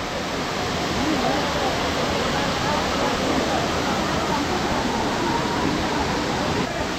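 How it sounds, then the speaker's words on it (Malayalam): Steady, loud rushing roar of the small Kiliyur Falls in Yercaud, a dense continuous wash of falling water heard close with no breaks. "അധികം വലിയ വാട്ടർഫാൾസ് ഒന്നും അല്ല, പക്ഷേ ഒരു ചെറിയ വാട്ടർഫാൾ."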